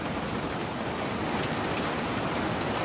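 Heavy rain from Typhoon Uwan in Rizal pours down steadily, a dense, loud, unbroken hiss of drops hitting surfaces, with no voices over it.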